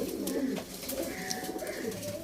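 Flying-breed pigeons coo in low, soft phrases amid faint chirps and background rustle, moderately quiet and close, with no talking.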